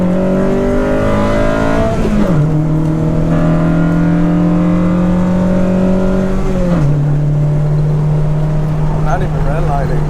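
A 1993 Honda Civic EG engine revs hard through its exhaust, loud and close, with a rising tone that drops at each gear shift and climbs again, steady engine roar throughout.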